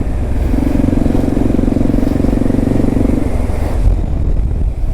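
A Marshal 150 motorcycle rides past on a city street with a loud, steady buzzing engine drone among traffic noise, lasting several seconds before it fades slightly.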